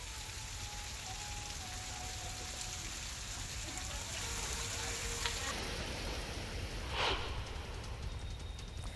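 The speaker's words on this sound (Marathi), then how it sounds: "माणगाव, महाड, म्हसळा, श्रीवर्धन परिसरात पावसाच्या सरी कोसळत आहेत" Heavy monsoon showers fall across Raigad district around Mangaon, Mahad, Mhasla and Shrivardhan, a steady even hiss of rain with a brief louder splash partway through and faint voices beneath it.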